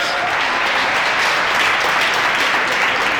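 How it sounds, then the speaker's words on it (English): A large audience bursts into a huge, dense round of applause at a Success Day event, steady loud clapping filling the room without pause. "Thank you for the huge round of applause."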